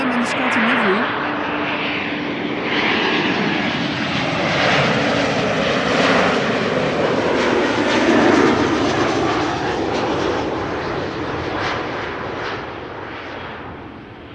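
KLM airliner engines roar steadily at Amsterdam Schiphol Airport, a loud, continuous broadband jet rumble filling the whole stretch, with a person speaking faintly underneath.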